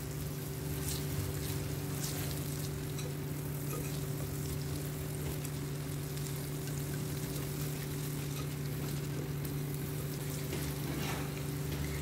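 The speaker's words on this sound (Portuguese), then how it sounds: "E eu vou deixar aqui até essa manteiga terminar de derreter. Então eu vou ficar mexendo para não grudar nada" Butter melts with garlic and onion in a pan for shrimp risotto, giving a soft, even sizzle with faint stirring, steady and close, over a constant low hum.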